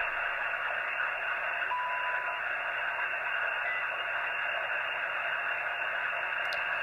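Steady hiss of ham radio static on an empty frequency with no voice coming through, a flat, even wash of noise held at a constant moderate level.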